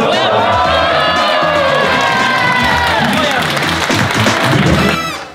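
A large crowd at a high school event applauds and cheers continuously, with whoops and shouts rising over dense clapping, loud and close throughout.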